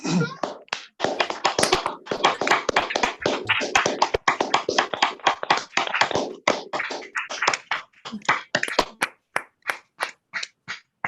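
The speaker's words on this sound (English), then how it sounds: "so that we clap for a big thank you to our local hosts" Scattered clapping from several people heard over a video call, sharp and close, building to a flurry then thinning out into isolated claps toward the end.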